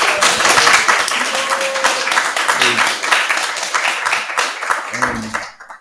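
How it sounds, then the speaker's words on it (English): Temple audience gives a steady round of applause at a Srimad Bhagavatam class, dense clapping sustained for several seconds with a few voices faintly mixed in before it tapers off. "Let's give him a round of applause,"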